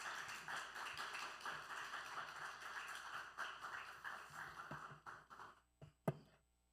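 A church congregation claps in welcome for a pastor during a Korean worship service, a dense round of applause that thins out near the end into a few scattered, louder individual claps.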